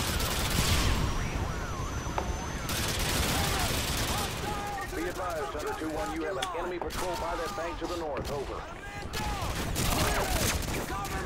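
A minigun turret in Call of Duty MW2 fires in dense, sustained bursts amid heavy battle noise, with someone talking excitedly over the gunfire.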